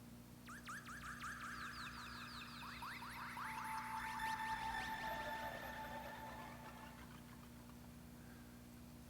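A synthesizer patch called Lost Thing, granularized and sent through crystalline reverb, makes faint, glittering, chirping bursts that sweep and shimmer over a steady low hum. It sounds somewhat birdlike and keeps going for about nine seconds.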